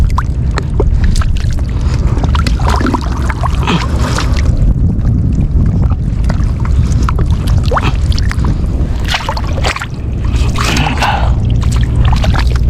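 Seawater splashes and rushes among rocks on a rocky shore where octopus are pulled from crevices, a loud, close, continuous wash with sharper bursts of spray breaking through.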